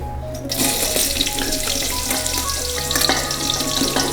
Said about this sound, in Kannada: ಗೋಲ್ಡ್ ವಿನ್ನರ್ ಆಯಿಲು ಒಗ್ಗರಣೆಗೆ ಸ್ವಲ್ಪ ಸಾಸಿವೆ ಹಾಕ್ಕೊಳ್ಳೋಣ ಈರುಳ್ಳಿ